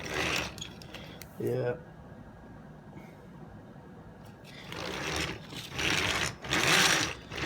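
The motor of a Power Rangers DX Drive Max Megazord toy whirs and grinds in loud mechanical bursts, with a person briefly speaking between them.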